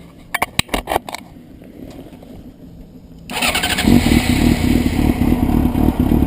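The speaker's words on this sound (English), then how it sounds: "I'm going to start the bike up and show you this" Motorcycle engine cranks with a few sharp clatters, then catches at about three seconds and settles into a loud, steady idle close by, with no talking.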